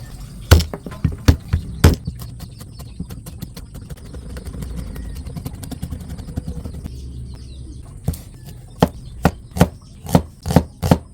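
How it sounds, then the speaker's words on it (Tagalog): A knife chops garlic on a cutting board in quick, sharp, close knocks, first in scattered hits, then a softer rapid patter, then a final run of louder evenly spaced strokes, with no talking. "ito naman pong bawang at sibuyas ang atin pong hihiwain. Unahin po muna natin itong bawang."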